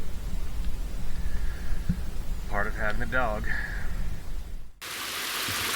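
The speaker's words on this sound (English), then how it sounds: "You could hear the rain coming on the water from the distance." Rain falls on the water of a cove in the Broughton Islands as a steady broadband hiss, while a voice talks over it before the sound shifts abruptly near the end.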